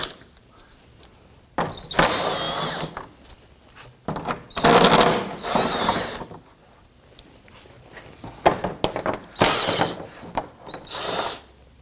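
A power driver with a socket backing out the four 10mm splash shield screws beneath a 2018-2024 Toyota Camry 2.5L four-cylinder, whirring in several loud, close bursts of a second or two separated by pauses.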